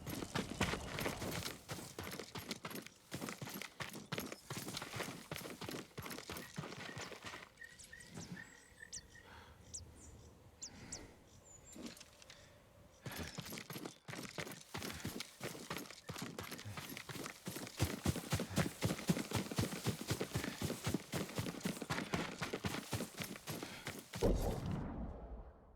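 A horse's hooves clip-clop in the video game Ghost of Tsushima, a steady rhythmic trot that goes on for a long stretch, briefly softer partway through, over a quiet outdoor background of insects and birds.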